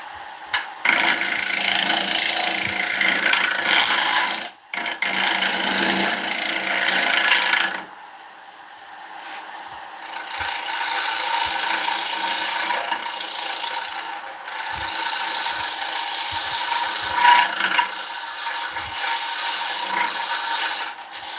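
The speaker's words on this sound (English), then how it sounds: "Round nose scraper." A round nose scraper cutting spalted beech spinning on a woodturning lathe, giving a loud continuous rasping scrape with brief breaks near the start, then a softer rubbing drone with faint knocks for the rest.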